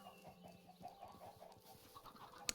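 Chickens cluck in a coop in a video game, faint little clucks in a low, steady background with one sharp click near the end.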